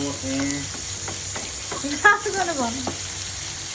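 Fenugreek, carom seeds and spices fry in hot oil for a bitter gourd pickle, a steady bright sizzle with crackling pops throughout, close and fairly loud, with a faint voice beneath.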